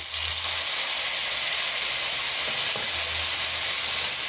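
Onions and tomatoes sautéing in a pan make a steady, close sizzling hiss with soft stirring scrapes, continuous throughout with no voices.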